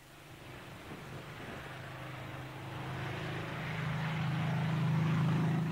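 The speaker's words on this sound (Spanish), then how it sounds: "El sonido de los motores era maravilloso, especialmente en los giros, cuando bajaba y salía a toda potencia del planeo." Aircraft engines roar steadily and grow louder toward the end, a deep sustained drone of a sleek, elegant airplane in a late-1980s account of aircraft breaking the sound barrier.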